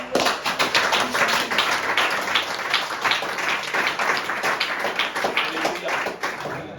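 A church congregation claps at a Sunday service, with brisk, continuous applause throughout, fairly close and even in loudness, and faint voices underneath.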